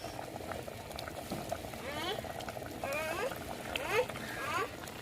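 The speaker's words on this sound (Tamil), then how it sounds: "அவியல் நம்மளுக்கு நல்லாவே கொதிச்சு வந்துருச்சு" Fish aviyal curry made with kara fish bubbles in a pot, a steady close boil with sputtering pops and bursts, while a voice speaks intermittently over it.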